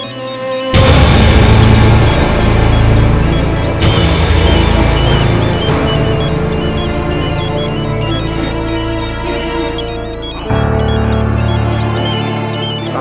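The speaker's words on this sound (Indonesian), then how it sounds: "aku angkat telepon dulu ya" Mobile phone ringtone plays loudly as a full musical tune, continuous for over ten seconds with a brief restart partway through, and no voices over it.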